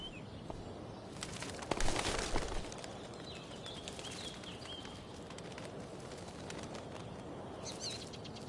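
Pigeon cooing and a brief flutter of wings in the video game Life is Strange: Before the Storm, soft and fairly close over a faint outdoor ambience with a few chirps.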